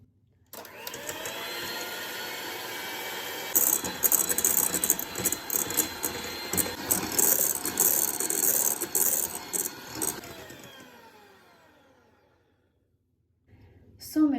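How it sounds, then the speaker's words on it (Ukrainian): An electric mixer beats eggs with sugar in a bowl, a continuous whirring motor with rattling, scraping beater noise that runs for most of the stretch, then fades down near the end before a brief return. "Міксером збиваємо до побіління яєць і пишності цієї суміші."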